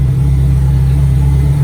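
An Acura Integra engine idles in neutral with a steady, loud, low drone and no talk, a suspected transmission fault making something spin while it runs.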